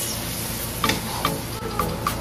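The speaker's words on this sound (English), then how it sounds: "Stir it very well." Dry pepper being stirred in a cooking pot for fish stew, a steady scraping stir under a faint sizzle, with a few sharp tapping knocks of the spoon against the pot, close and moderately loud.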